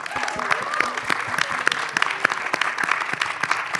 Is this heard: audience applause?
yes